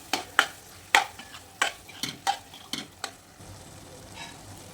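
A spoon scrapes and stirs bottle gourd with boiled chana dal in a pan, about eight sharp, evenly spaced scrapes over a faint sizzle, close and clear with no talking.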